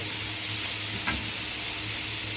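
Chicken sausages frying in a pan, a steady low sizzle and hiss with one brief stir or scrape in the middle, close-up and fairly faint, no talking.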